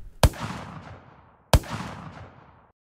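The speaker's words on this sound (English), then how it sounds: "And then I've got one for being far away." Two distant gunshots for a Fortnite-style shooter game, each a sharp crack followed by a long rolling echo tail that fades over about a second, spaced roughly 1.3 seconds apart with nothing else in between.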